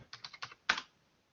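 A short burst of typing on a computer keyboard gives five close, crisp key clicks, the last one louder, with no talking.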